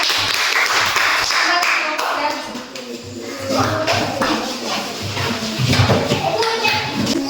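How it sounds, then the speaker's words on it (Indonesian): A class of schoolchildren claps in a primary-school lesson, with a dense, busy patter of hand claps and some shuffling that rises and falls over several seconds. "berikan tepuk tangan untuk kelompok 3"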